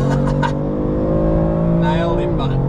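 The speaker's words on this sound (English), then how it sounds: "Wheel spin city!" A BMW M3 CSL and an M4 drag race with wheel spin, one engine revving hard with a rising then dropping tone, loud and close, with excited voices shouting over it at the start and end.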